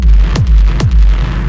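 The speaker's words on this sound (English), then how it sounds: "EQ8, which is boosting the low end as well as cutting the low mid-range. So we're just kind of focusing the kick" Two heavy industrial techno kick drums hit about half a second apart, each with a punchy click and a deep booming low end shaped by EQ, over a sustained sub-bass rumble.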